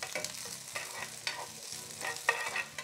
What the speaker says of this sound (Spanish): Vamos a agregar unas rebanaditas de cebolla aquí en esta cazuela que tiene muy poquito